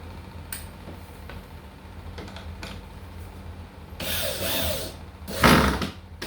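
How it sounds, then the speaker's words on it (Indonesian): Screws being driven into the bottom panel of a two-door, two-drawer wardrobe during assembly, heard as scattered ticks and clicks, then two louder bursts of whirring tool noise near the end. "ini tinggal dorong dan mengencangkan pakai skrup pada komponen bottomnya ya."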